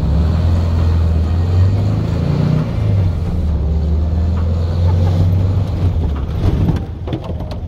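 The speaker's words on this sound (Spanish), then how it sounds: "Otra cosa que también quiero probar es la aceleración." A Volkswagen Beetle, a classic air-cooled car under restoration and modification, accelerates with a loud, steady engine rumble that holds for several seconds before easing near the end, heard from inside the car.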